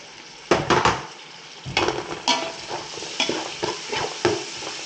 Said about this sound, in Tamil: போட்டு ஜஸ்ட் ஒரு 2 மினிட்ஸ் நம்ம வதக்கி விட்டால் போதும்